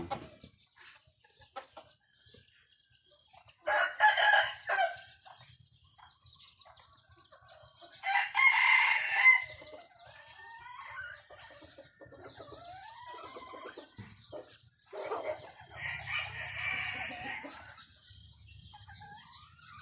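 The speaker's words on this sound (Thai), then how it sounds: "ความงามของไก่นะครับ ไก่แจ้นะครับ สวยงาม" Bantam chickens cluck and chirp nearby, with several bursts of shrill crowing rising above the steady cackling of the flock.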